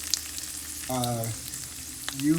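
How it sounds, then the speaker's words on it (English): A constant hissing sizzle of food frying in a pan fills the background, while a voice briefly speaks over it. "I'm pretty sure you know it's on because it's sizzling"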